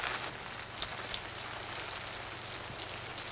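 Soft, steady rainfall pattering on a surface, with a few faint drip taps standing out against the continuous hiss.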